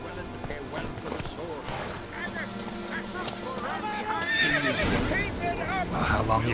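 Geralt's horse Roach in The Witcher video game, neighing with a high whinny over rhythmic galloping hoofbeats, close and fairly loud, with a voice speaking over it and music beneath.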